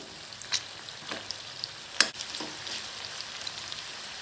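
Amla (Indian gooseberry) pickle cooking over high heat hisses in a soft, continuous sizzle, broken by a few sharp spoon scrapes and clinks as it is stirred, close up and without talking.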